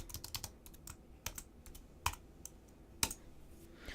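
Computer keyboard being typed on while entering a short math expression in MATLAB, a quick run of close, quiet clicking keystrokes with a couple of louder taps.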